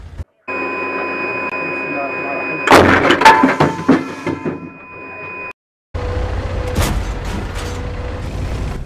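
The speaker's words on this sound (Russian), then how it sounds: "Я вот на ютубе нашел видео, где стреляет Т-55." A T-55 tank main gun fires with a sharp, loud blast and a rolling, crackling decay, heard once amid a noisy recording with steady tones before it and a second burst of rumbling noise after a brief gap.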